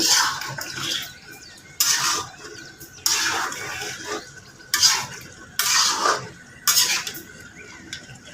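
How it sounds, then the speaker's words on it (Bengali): Fried fish heads stirred in a pot of bottle gourd curry, a series of about six wet scraping, sloshing stir strokes with short pauses between, close by, no voices. "এখন একটু হালকা নেড়ে চেড়ে নেব"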